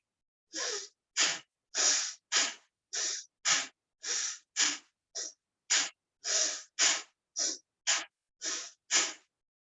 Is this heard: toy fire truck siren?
no